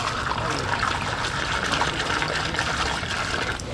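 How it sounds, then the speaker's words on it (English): Regular gasoline pours steadily into a lawn mower air filter, a continuous close splashing gush with no break across the few seconds. "I'm actually going to pour some more regular gas in"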